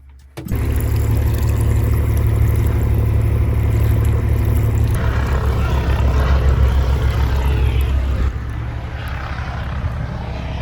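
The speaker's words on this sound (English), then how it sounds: "We got helicopters again." A loud, continuous low rotor and engine drone fills the air steadily as helicopters pass close overhead a boat anchored off a Baja island.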